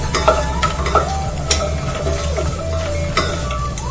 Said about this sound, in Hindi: इनको अच्छे से ऑयल के अंदर ब्राउन करेंगे।